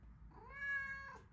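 A pet cat lets out a single drawn-out meow, faint and close, rising and holding before trailing off, with no talking.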